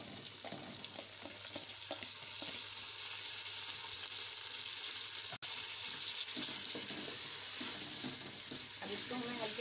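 Cabbage and softened, not-yet-browned onions fry in a pan for a Quetta-style mixed malai sabzi, giving a steady, loud, close sizzle that runs unbroken throughout, with no voices.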